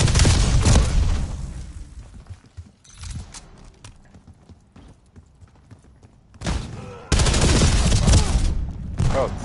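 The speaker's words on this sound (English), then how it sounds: "Incoming flashbang" A flashbang grenade bursts amid heavy Call of Duty gunfire. Loud, rapid shots crackle throughout, fade briefly, then a big concussive blast leads into another sustained, close barrage.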